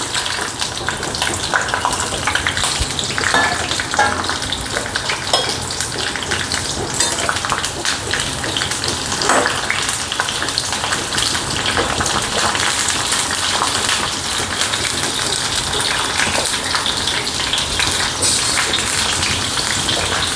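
Mustard seeds, cumin and green chillies crackling in hot oil, a dense, loud, continuous sizzle with fine popping that sounds almost like heavy rain, steady for the whole stretch.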